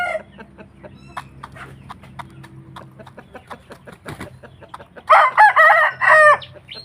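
Chickens and a rooster on a Thai farm, with scattered clucks and scratching nearby, then a loud close rooster crow near the end.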